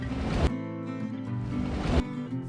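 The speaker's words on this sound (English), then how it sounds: "The waves are splashing." Swishing, rolling water noise like waves splashing, with broad surges around half a second and two seconds over a steady tonal bed, as if heard underwater in a sea scene; no one speaks.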